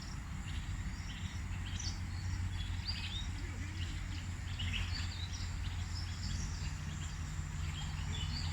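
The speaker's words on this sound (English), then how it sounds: "I'm keeping quiet and I want you to hear the birds." Scattered bird chirps and calls sound through a steady outdoor hum in an early-morning park in Abuja, Nigeria, fairly faint and at a distance, with no one talking.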